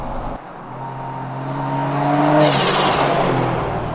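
A turbocharged Barra-engined restomod Toyota Land Cruiser FJ45 4x4 revs up close by, its engine note climbing steadily and ending in a loud high whine, with no talking over it.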